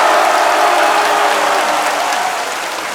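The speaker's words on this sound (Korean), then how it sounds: "함성 소리와 박수와 할렐루야" A church congregation at a revival service bursts into applause and cheering for a couple of seconds, a loud, thick roar of clapping and crowd noise that tapers slightly at the end.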